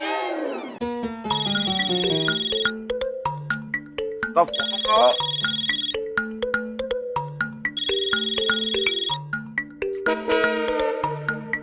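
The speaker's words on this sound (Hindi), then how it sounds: "हाथी भाई का मोबाइल पे ही फोन करता हूँ" A mobile phone plays a melodic electronic ringtone, its tune cycling through repeated phrases with bright chiming bursts, clear and close.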